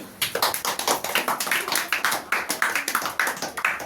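An audience applauds a student debate speaker at a Tamil pattimandram on teachers' kindness versus strictness, the claps coming in uneven bursts rather than a steady wash, sounding moderately close and alone without voices.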